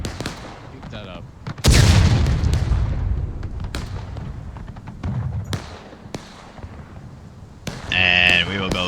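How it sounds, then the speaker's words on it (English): Cannon fire in a Civil War strategy game during an artillery duel: a loud booming blast with a long rumbling tail, followed by scattered sharper reports, another heavy boom near the end, and faint background voices. "we will go straight back into an old-fashioned artillery duel, cannon for cannon right now"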